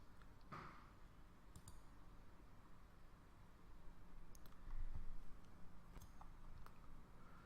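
A few faint, sharp computer mouse clicks are scattered over a low background hiss in a quiet room, with no talking.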